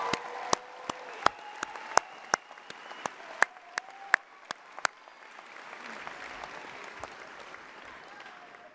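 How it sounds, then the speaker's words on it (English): Crowd applause fills a graduation ceremony hall, a steady wash of clapping with sharp individual claps popping out in the first half before it settles into a denser, even patter. "round of applause."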